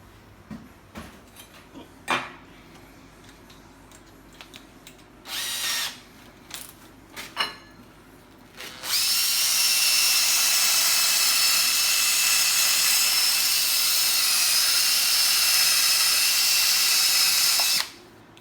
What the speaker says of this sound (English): we're just going to take a sanding disc and we're going to clean that up real quick